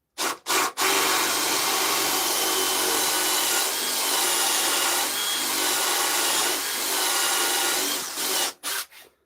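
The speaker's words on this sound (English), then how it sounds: "I'm putting my drill bit in the center of the ring, so that way it cuts a half" A drill grinds steadily into wood for several seconds, a rough continuous whir with brief stops at the start and end.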